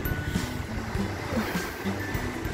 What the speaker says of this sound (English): listen to the sound of the ocean